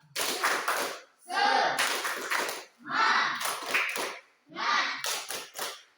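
A school class performs the rhythmic 'tepuk semangat' spirit clap, with four close bursts of quick patterned hand claps, each mixed with the children chanting together in unison.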